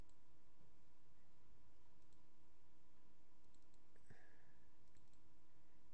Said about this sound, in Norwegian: Klikke, klikke, klikke, klikke.